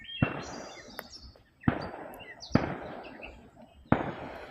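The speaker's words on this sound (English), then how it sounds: "There's gonna be so many people lighting off fireworks around here." Fireworks bursting around a neighbourhood on the Fourth of July, four sharp loud bangs spaced about a second apart, each trailing off into crackle and rumble, with faint chirping between them.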